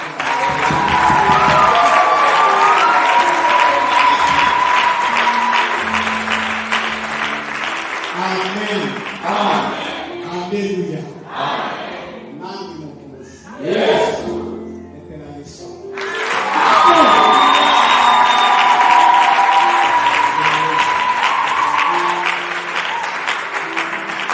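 Loud applause and cheering from a church congregation at a New Year's Eve service, sustained and dense, dipping into a quieter patch of scattered claps and voices before swelling back to full strength.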